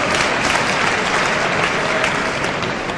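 Dense, continuous clapping rises from a concert audience awaiting a ghazal performance in the UK, close and full throughout the short stretch.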